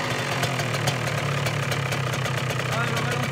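A motorcycle engine idles steadily with a rapid, even putter, close and constant throughout.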